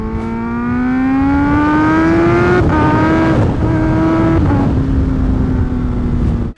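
Kawasaki ZH2 supercharged motorcycle idling and revving in a shop, a loud, close engine note that climbs steadily, dips and holds for several seconds, with no talking over it.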